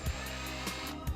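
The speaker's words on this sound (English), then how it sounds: "we just took a 1 1/4 drill bit and placed it on the wood and drilled" A power drill with a 1 1/4 inch bit bores into a 2x4 of wood, a faint, steady whirring hum with slight pulsing bumps over about a second.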